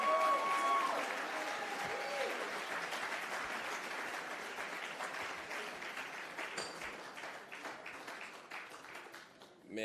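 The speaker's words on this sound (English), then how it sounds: "Give another round of applause for the world's greatest entertainer." A crowd applauds steadily with dense clapping at a Malcolm X commemoration event, gradually thinning toward the end while a voice cuts in near the start.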